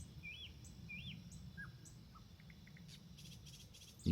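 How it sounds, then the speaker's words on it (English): Several short, clear whistled bird phrases from nightingales repeat every half second or so over a low, steady ambient rumble and faint insect-like chirps, with a soft thump at the very end. "You hear only my voice and nightingales."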